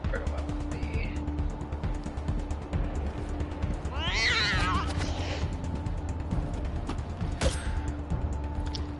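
A cat meows in the video game Wasted Lands, a brief mid-clip cry over a steady hum of game ambience and scattered mechanical clicks, with no talking.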